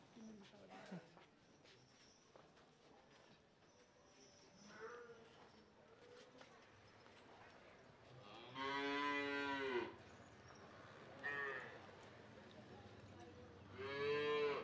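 Murrah buffalo on a Maharashtra dairy sale farm moo three times, a long loud call near the middle and two shorter ones later, over faint background voices and farmyard noise.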